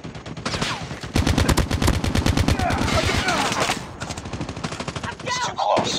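Rapid bursts of automatic gunfire in a Call of Duty Mobile team deathmatch, loud and close, with dense rattling volleys that ease into scattered shots, mixed with in-game voice callouts.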